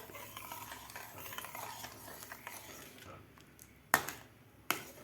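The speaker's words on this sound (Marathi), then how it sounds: "एकसारखं आपल्याला ढवळत राहायचं आहे नाहीतर ते खाली लागतं ते पीठ" Jowar flour porridge (ambil) is stirred in a pot, a faint soft scraping and swishing that ends in two sharp clinks of a spoon against the pot.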